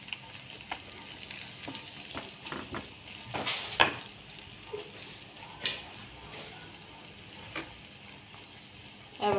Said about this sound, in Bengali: এবার বেরেস্তার সাথে এখানে এই যে মাংসগুলো আমি মিক্স করে দেব।